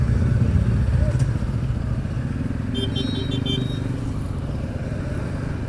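A small group of five or six motorcycles sets off on a short Sunday ride. Engines rumble close by in a steady, loud drone with road noise, and a brief higher whine joins in midway.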